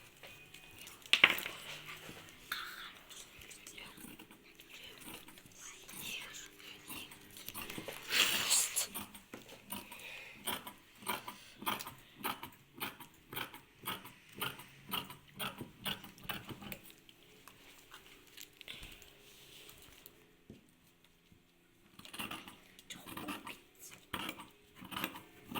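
Fabric being cut with scissors for a flared skirt, heard as a run of crisp, rhythmic snipping and clicking close by, with brief pauses and light handling noise between cuts and no talking.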